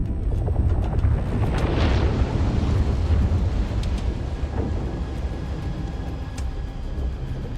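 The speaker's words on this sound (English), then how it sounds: "explosions are still pretty, at least" Explosions in the video game Homeworld 3 form a continuous, loud, rumbling roar with scattered booms and crackles layered throughout.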